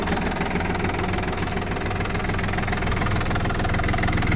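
A mini tractor engine idles steadily close by at about 800 rpm, a dense, even rumble with a fast mechanical knock that holds constant throughout.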